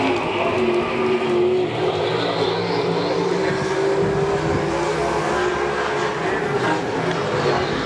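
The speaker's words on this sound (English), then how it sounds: "Here we go back, green flag racing." Race cars roar under green-flag racing on a quarter-mile oval at Golden Triangle Raceway Park, a loud, dense, continuous engine drone with overlapping motors and faint tire noise, close and unbroken.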